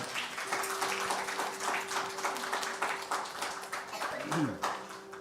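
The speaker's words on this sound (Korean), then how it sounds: "박수 보내주십시오" Congregation applause during a church service, a steady wash of clapping filling the room for several seconds at moderate level, with a sustained tone and a brief voice or sound sweep near the end.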